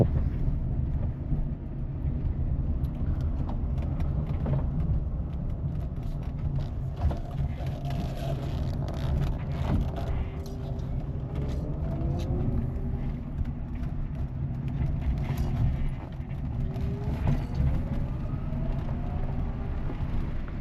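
Electric-converted Volkswagen Beetle with a Tesla Hyper 9 motor pulling through full acceleration from about 15 mph, a steady low rumble of road and drivetrain noise with faint rising whine tones, continuous and close.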